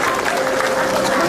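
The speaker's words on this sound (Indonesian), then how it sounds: "Akbar, tepuk tangan dulu untuk Akbar." Studio audience applause on an Indonesian comedy TV show, a dense, loud wash of clapping with crowd noise and some voices mixed in, lasting only a moment.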